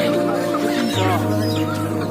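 Local chickens cluck at a busy market, with short clucks and calls heard close by over steady crowd noise and a low hum.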